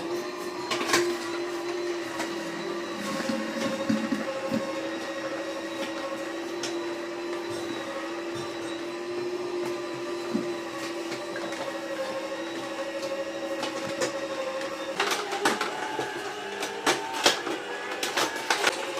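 A cold press juicer takes in whole, uncut apples, producing a steady motor drone with a high whine and a clatter of crunching that grows busier near the end, with no talking.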